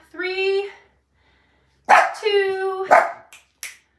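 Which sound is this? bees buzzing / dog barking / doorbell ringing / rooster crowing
dog barking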